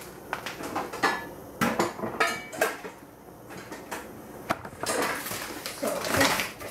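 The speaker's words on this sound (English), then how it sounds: "It's better to clean the rice a little bit." Jasmine rice being washed in a pot, with close clattering and scraping knocks of grains and metal in an irregular rhythm, several sharper clanks standing out, no talking.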